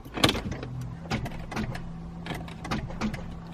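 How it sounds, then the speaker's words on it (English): A Saab 9-3 that won't start on a weak battery gives sharp mechanical clicks from the car, spaced over a low steady electrical hum, with no engine cranking or firing. "I get 2 clicks"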